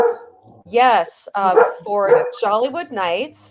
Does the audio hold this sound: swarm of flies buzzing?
no